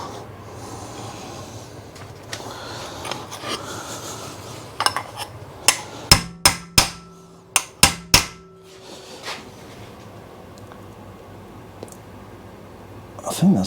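Hammering material clamped in a vise in a workshop during a Suzuki GS custom motorcycle project: a string of about a dozen sharp, ringing metallic blows in the middle, close and loud, with quieter handling noises around them.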